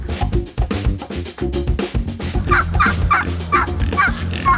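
Turkeys gobble in a loud, repeated series of bursts close by, layered over a low, busy rumble of farmyard noise with no talking.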